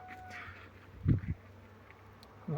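A steady, faint buzzing of honey bees hums in the background of a blooming apple orchard, broken by a couple of short low thumps nearby.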